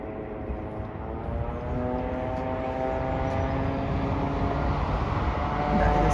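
Single-propeller Pilatus PC-12 aircraft at Leeds-Bradford Airport, a steady, low droning engine hum with a held tone that grows slightly louder toward the end, heard from a distance with no talk.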